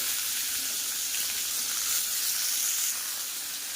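Bitter gourd hits hot oil in a karai on a gas stove, giving a steady, close, bright sizzle that hisses evenly throughout with no talking.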